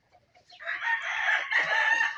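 Hen on a farm in Nueva Ecija giving a loud, close, drawn-out clucking call that lasts just over a second and a half, no talk.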